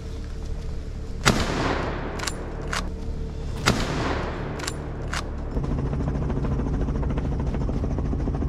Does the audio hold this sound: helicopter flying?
yes